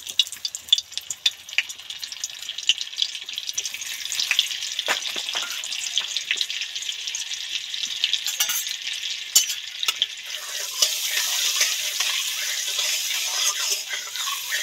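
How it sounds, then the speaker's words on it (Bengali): Butter melting into hot mustard oil in a pan, a bright hissing sizzle with crackling pops early on, then a steady close frying hiss that swells slightly near the end, no voices. "এবার একটুখানি বাটার এই তেলের মধ্যে উঠিয়ে দেব।"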